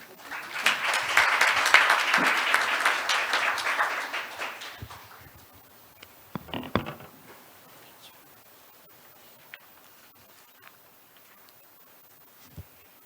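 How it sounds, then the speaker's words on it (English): Conference audience at an Asia-Pacific ADR session breaks into dense applause for about five seconds, then fades to scattered claps, a few sharp knocks and quiet room noise. "Please welcome Anna with big applause."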